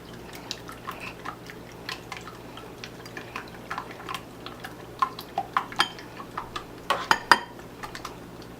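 A tablespoon stirs eggs in a bowl to temper them for vanilla custard, with quiet, irregular metallic clinks and taps that grow busier and louder toward the end over a faint background hum.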